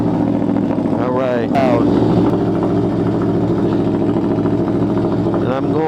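Motorcycle engine just started from cold, idling loudly and close with an uneven throb and a short rev, while a rider speaks briefly over it.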